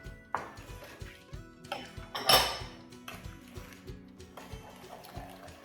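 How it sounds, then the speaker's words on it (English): Spoon stirring bran muffin batter mixed with canola oil in a bowl, giving repeated soft scraping knocks in a steady rhythm, close and moderately loud, with one brighter clink partway through. "I'm just gonna give these a good stir."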